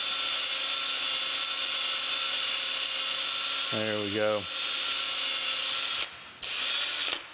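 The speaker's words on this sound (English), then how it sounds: "let's see if I can get that drilled out all the way now" A power drill bores holes through a metal part of a New Haven metal planer, giving a steady, loud whining drone throughout that briefly dips near the end; someone speaks a few words over it midway.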